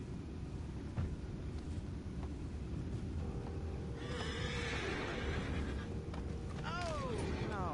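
Horses in the Red Dead Redemption 2 game give a few whinnies and snorts over a steady outdoor ambience, with hooves clopping faintly and a voice speaking now and then.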